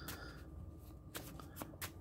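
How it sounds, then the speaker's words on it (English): A deck of playing cards is shuffled face down, giving a few short riffling bursts of papery flutter, close and quiet, with no talking. "I'm gonna shuffle them face down so you can't see what I'm doing."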